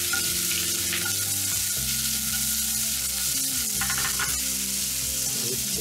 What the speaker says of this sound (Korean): 잘 달궈진 팬에 양파와 소시지를 넣고 잘 볶아줍니다